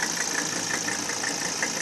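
A 1984 Mercedes 300 TDT turbo diesel wagon engine idling, a steady close rattling clatter with light rhythmic knocks over a constant hum.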